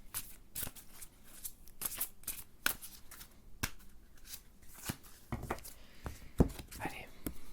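Tarot cards shuffled and drawn one at a time, crisp close riffles and soft slaps repeating unevenly, with quiet whispered talk in between.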